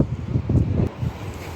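Strong sea wind buffets the microphone on a harbour pier in Kuwait, a close, low rumbling roar that surges and dips in uneven gusts throughout, with no voices.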